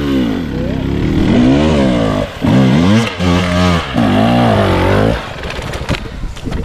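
A motorcycle on a trail competition course revs hard in repeated rising and falling bursts close by, with engine pitch sweeping up and down, then drops to a rough idle.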